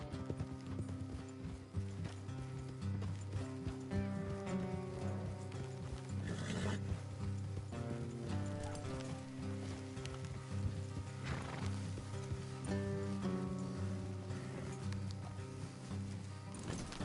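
Horses in the video game Red Dead Redemption II plod along with rhythmic hoof clip-clops over a bed of music-like tones, steady and moderately quiet, no voices.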